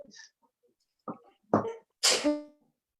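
A person sneezes once, a sharp burst that follows a couple of small breathy sounds and an inhale, close and loud in an otherwise quiet room.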